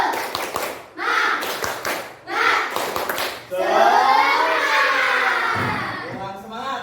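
Children in a classroom perform the tepuk semangat clapping chant, shouting rhythmic words between sharp bursts of hand claps, then breaking into a long loud group cheer near the end.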